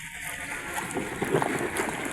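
Rough morning sea waves splash and wash near a fishing boat, a close, continuous churning of water with irregular splashes.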